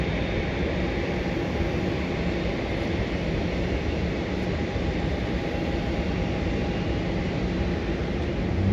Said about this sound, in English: Next flight to land is a flight from Brisbane, and that is a Jetstar.